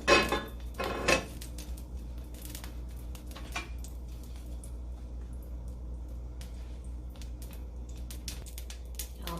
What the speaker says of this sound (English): The oil is popping.